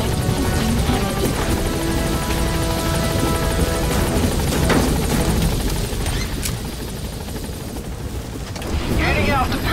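A helicopter lifts off and departs in the Metal Gear Solid V game, its loud rotor thrum filling the scene with a dense roar that dips and swells again near the end.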